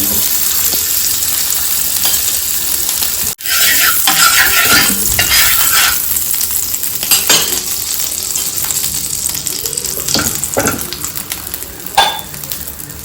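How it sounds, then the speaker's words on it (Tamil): Butter sizzling on a hot tawa while pav buns toast: a steady loud hiss runs throughout, with occasional scrapes and taps of a spatula against the pan, close up. "அதுக்கு நான் தவா ஹீட் ஆனதும் அதில் கொஞ்சம் பட்டர் போட்டுருக்கேன்"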